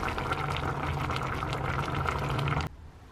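Cut wonton wrapper noodles go into a pot of boiling dashi soup, a continuous close bubbling and splashing that stops abruptly near the end.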